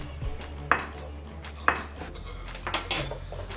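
A metal spoon mixes turmeric, cumin and garam masala in a bowl. It makes a few sharp clinks against the dish, then softer scraping and stirring at close range. No one speaks.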